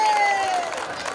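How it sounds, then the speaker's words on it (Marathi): A crowd at an open-air wrestling ground during an urus fair in Kabnur claps and cheers, a brief burst of scattered applause mixed with a thin whistle-like tone and background voices. "करा की टाळ्या"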